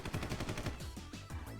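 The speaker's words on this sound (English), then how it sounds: "The offers unleash a hell of rubber bullets" Rapid bursts of rubber-bullet gunfire in the DRAMAtical Murder video game, a dense stuttering machine-gun volley that rattles on continuously, loud and close with sharp repeated shots and no speech.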